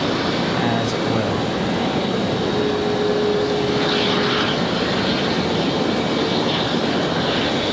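An Embraer E175 jet at Raleigh-Durham International Airport gives a loud, sustained engine roar with a steady whining tone, heard from a spotting position, with a voice talking over it at times.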